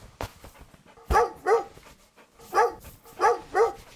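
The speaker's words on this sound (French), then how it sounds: "Mon bon gros chien, moi." A big dog gives a run of close, mid-loudness barks with whimpers in between, five or six distinct yelps spaced unevenly over a few seconds, with no talk.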